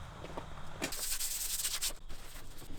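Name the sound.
sanding paint on a vintage dumbbell with sandpaper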